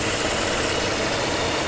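A Mercedes-Benz W126 560SEC engine with worn engine mounts idles steadily after fuel distributor repair, a continuous loud rumble with broad vibration and no pauses.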